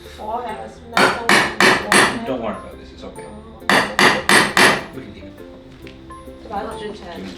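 Leatherworking hammer strikes ring out loud and close in two bursts of four rapid blows each, separated by a short pause, with softer handling noises between and after them.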